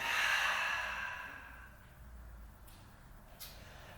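A deep, audible exhale fades out over a couple of seconds while a yoga practitioner folds forward from a wide stance, and quiet room tone follows.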